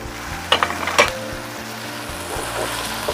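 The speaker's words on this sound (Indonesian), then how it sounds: "Ditumis bumbunya ini sampai matang ya teman semua, sampai aromanya harum." Spice paste for empal, seasoned with salt, ground coriander, sugar and mushroom stock, sautés in a pan with a steady low sizzle, broken by a few sharp scrapes of a utensil early on.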